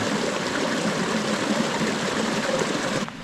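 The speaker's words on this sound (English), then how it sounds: "Oh, perfect little spot with some flowing water." A small mountain stream on the Wonderland Trail at Mount Rainier flows steadily nearby, a constant rushing babble that drops off abruptly at the very end.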